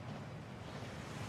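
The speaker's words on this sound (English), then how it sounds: "That waterfall washes away all enchantments" Steady, dense rushing of a waterfall in the Hogwarts Legacy video game, a broad constant roar of falling water held close and loud throughout with no voices.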